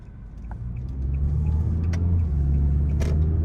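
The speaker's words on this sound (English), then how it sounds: "let's go ahead and take this 2015 Kia Soul out on the road for a test drive" A 2015 Kia Soul Exclaim with a 2-liter engine drives on the road during a test drive, heard from inside as a steady low engine and road rumble that swells slightly as it picks up speed.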